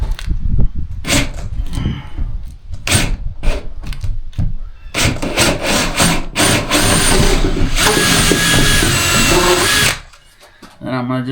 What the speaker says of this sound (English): So I'm going to drill a hole here.